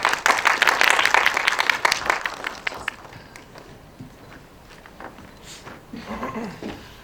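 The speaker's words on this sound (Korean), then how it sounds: "박수로 맞아주시면 됩니다." A room of attendees at an association general meeting applauds as the association president comes up, a dense burst of clapping that thins and fades after a few seconds, with some shuffling afterward.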